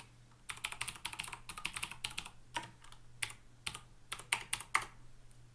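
Keystrokes on a computer keyboard as a chat command is typed in a Roll20 game, a steady run of crisp, close clicks in quick bursts with short pauses, no voices.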